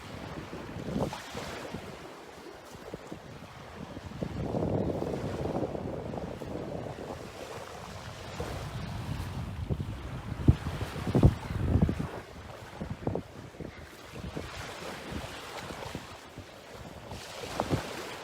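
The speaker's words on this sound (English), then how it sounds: "I love seeing the water hit upon the shore like this." Waves wash onto the shore at Sunnyside Beach in Melbourne, surging and receding in a continuous roar. Gusty wind buffets the microphone throughout, and there is no speech.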